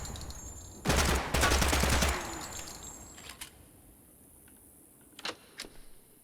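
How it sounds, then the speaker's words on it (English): Rapid bursts of homemade energy-weapon fire from a video game, a dense crackling volley lasting about a second followed by a few sparse, fainter zaps against a quiet background. "What was that thing shooting laser bolts at us there?"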